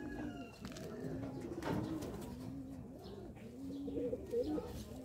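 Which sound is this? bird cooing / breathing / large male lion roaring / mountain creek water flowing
bird cooing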